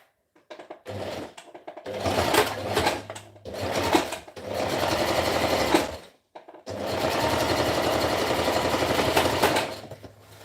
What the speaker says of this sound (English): I'm gonna stitch half an inch.